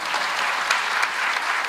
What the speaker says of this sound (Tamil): ஒரு நல்ல செய்தி, கைத்தட்ட வேணாமா?